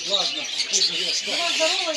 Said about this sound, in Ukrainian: А що це за пташки?